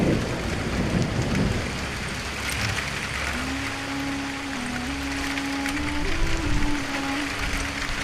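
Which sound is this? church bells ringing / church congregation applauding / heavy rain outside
heavy rain outside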